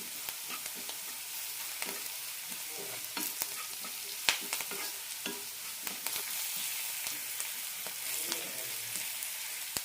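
Onion fries with turmeric and asafoetida for a ridge gourd curry, making a quiet, continuous sizzle broken by irregular clicks and scrapes of stirring, close up and without speech.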